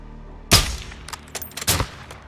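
Sniper rifle shots ring out in Call of Duty: Modern Warfare 2: one sharp, loud crack opens, followed by a cluster of quieter distant pops and a second strong blast near the end.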